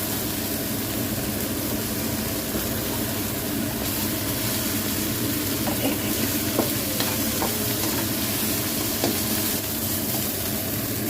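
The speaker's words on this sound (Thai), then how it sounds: "เอาพริกลงไปผัดกับน้ำมันให้หอมก่อนค่ะ" Chili paste stir-fries in hot oil for a Thai fish stir-fry, giving a steady close sizzle with occasional light scrapes and taps of the utensil against the pan, and no talking.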